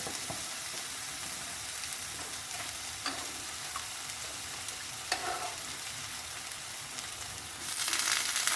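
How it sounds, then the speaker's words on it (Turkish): Steady sizzling and crackling of bread toasting on a hot grill for köfte, with occasional light taps and scrapes, growing louder near the end. "Şimdi ekmeklerimi ızgarada güzelce kızartıyorum"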